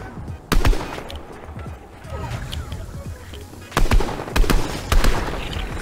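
Gunfire in Fortnite, sharp cracking shots from a distance, a single shot early and then a cluster of several rapid reports later, over a steady game background.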